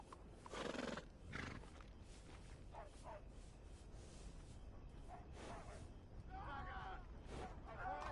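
Horse in the Red Dead Redemption 2 video game, a loud close whinny near the start followed by snorts and hoof clip-clops, with game voices and ambience underneath.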